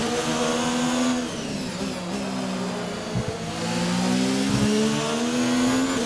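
An F1 race car engine in the video game F1 2019 screams at high revs in a weekly online race, loud and continuous, with pitch rising and falling through gear changes.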